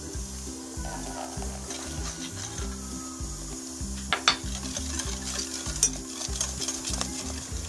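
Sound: butter melting and sizzling in oil in a pan

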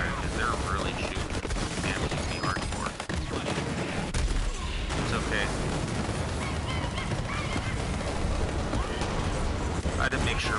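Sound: gunfire from enemies in a video game

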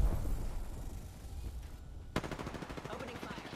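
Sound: gunfire in the video game Apex Legends

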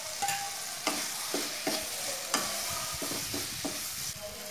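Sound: ingredients sautéing in a pan for crab rasam

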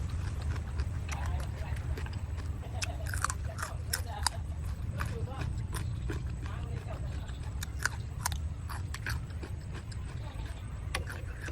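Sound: chewing crispy snack

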